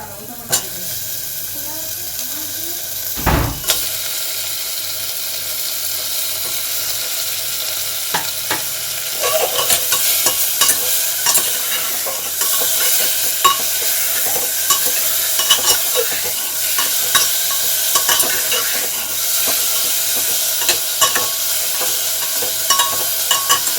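Chicken pieces for a chicken stew drop into a hot pan and fry with a loud, continuous close sizzle and hiss, broken by occasional scraping stirs and clinks of a spoon.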